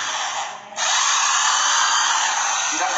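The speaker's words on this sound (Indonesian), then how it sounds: "Lumayan sakit kalau bor putarannya terbalik seperti ini." Electric power drill whines steadily with the bit turning in reverse, a high buzzing drone that dips briefly then holds loud and close for the rest of the clip.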